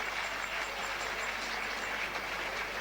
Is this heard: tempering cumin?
no